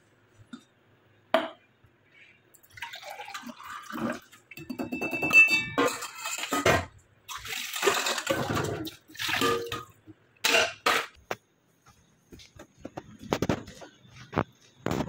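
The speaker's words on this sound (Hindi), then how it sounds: "अब इसको थोड़ा स्टेन करेंगे स्टेन करके मैं उनको पिलाएंगे" Juice being strained in a home kitchen, with intermittent pouring and trickling of liquid, clinks of utensils against a vessel and scattered bursts of handling noise, close by and fairly quiet.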